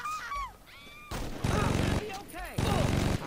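Saints Row 2 gunfire comes in two loud, sustained bursts of rapid automatic shots, with a voice exclaiming excitedly before and between the volleys.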